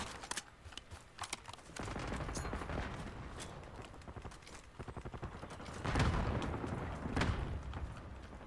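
Dense gunfire and explosions from a Call of Duty Black Ops 6 multiplayer match, with bursts of automatic fire layered over rumbling blasts, loud and continuous throughout, heaviest near the end.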